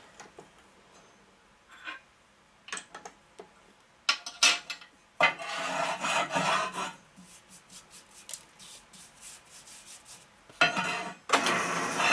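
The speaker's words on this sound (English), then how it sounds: "we go down until it cleans all the way, like that. Deburring tool." A deburring tool scraping a machined metal edge on a rebuilt 2001 Gilroy Indian race bike part, giving scattered ticks and then longer rasping strokes in bursts, close and fairly loud, with no speech.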